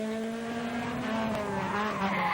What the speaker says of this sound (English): lots of revs on the VTEC engine